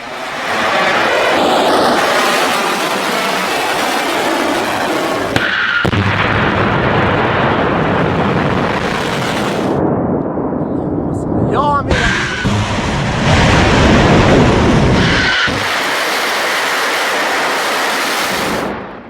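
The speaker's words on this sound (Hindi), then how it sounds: "ईरान ने इजराइल पर मिसाइलों की एक खतरनाक खेप दाग दी है" Missiles fired by Iran at Israel strike and explode in loud, rumbling blasts that fill most of the stretch, with sharp bursts breaking through a continuous roar and brief quieter gaps between impacts; voices can also be heard.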